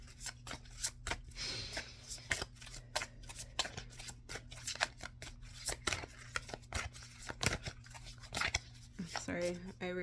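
Tarot cards are shuffled repeatedly in crisp riffling bursts, close by, with a soft voice murmuring briefly near the end.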